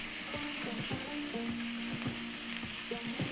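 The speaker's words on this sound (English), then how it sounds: "I'm gonna mix this all, give a nice stir so all the veggies get well coated with the seasonings and the tomato paste" Vegetables coated in seasonings and tomato paste sizzle in a hot pan, with a spoon scraping and stirring in steady, repeated strokes, close and continuous with no voices.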